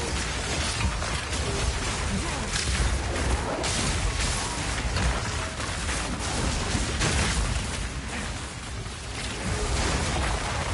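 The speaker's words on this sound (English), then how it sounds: "There's so many calculations that it's having to do with Leap Slam because of the corpse explosion." Repeated corpse explosions from Leap Slam in Path of Exile 2 pile into a dense, continuous wash of crashing, crackling bursts and mechanical clatter, loud and unbroken for the whole stretch with no speech.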